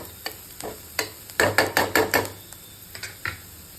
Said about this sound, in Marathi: थोडासा ब्राऊन कलर येईपर्यंत कांद्याचा